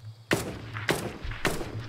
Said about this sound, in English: Oh, people are shooting at us now.